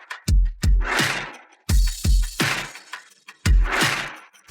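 A hammer strikes raw stones to crack them open for jade, each heavy blow landing as a sharp crack followed by a crunchy scatter, repeated several times at close range.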